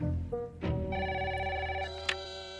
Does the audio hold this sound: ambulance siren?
no